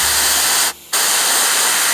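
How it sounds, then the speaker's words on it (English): An airbrush sprays paint onto a miniature's jump pack engine in a steady loud hiss, held close to the model, broken once by a brief gap before the spray resumes. "So I get a bit closer with the airbrush"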